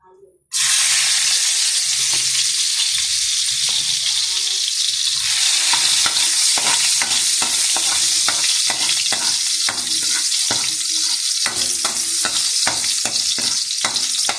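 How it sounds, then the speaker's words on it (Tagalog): Garlic, onion and tomato sautéing in a hot pan, a loud sudden sizzle that starts at once and keeps going with steady crackling and occasional stirring scrapes. "igisa na po natin ang ating bawang, sibuyas at saka kamatis mga kaguro"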